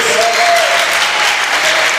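A church congregation claps in a steady, full burst at a Portuguese-language sermon, dense and close, with a faint voice or cheer rising briefly within it.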